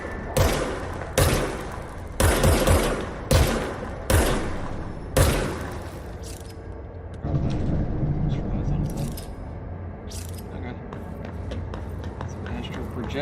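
Gunshots from a projection gun fired in the video game Control ring out in a quick series of loud, sharp bursts during the first six seconds, then give way to quieter ambient rumble and scattered clicks, with talking mixed in.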